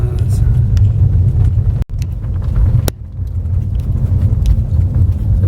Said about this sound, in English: So this is driving on the ice road to Detour